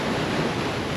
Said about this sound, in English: Jeez, some of those waves are crazy.